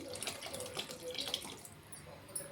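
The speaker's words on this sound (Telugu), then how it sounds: "అందుకని కొంచెం వాటర్ కూడా వేస్తున్నాను." Water pours with a quiet, bubbling splash into a cooking pot, close by and fairly soft.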